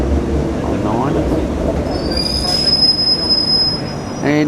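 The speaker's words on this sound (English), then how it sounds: "Redcliffe train coming in on 9." A Redcliffe train rumbles in loudly to platform 9, wheels squealing with a high steady screech over the heavy rolling noise, and a voice speaks briefly nearby.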